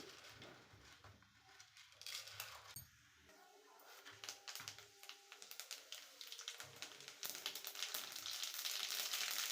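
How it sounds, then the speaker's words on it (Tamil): Dried chillies, mustard seeds, chana and urad dal, and curry leaves tempering in hot oil for peanut chutney, a faint crackle that thickens into steady, rapid popping and sizzling with no voices. "காஞ்ச மிளகாய், கடுகு, கடலைப்பருப்பு, உளுந்தப்பருப்பு, கருவேப்பிலை இது எல்லாத்தையும் போட்டு நான் பொரித்து தாளிச்சிக்க போகிறேன்"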